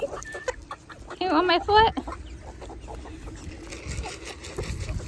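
Chickens cluck close by while being fed treats, with a brief burst of rooster-like calls in the middle, under a person's talk and scattered footsteps.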